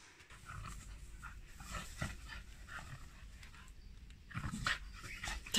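Close, quick rhythmic panting from a dog, breathy and uneven, with a few small snuffles and louder breaths near the end.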